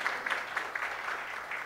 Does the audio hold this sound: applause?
yes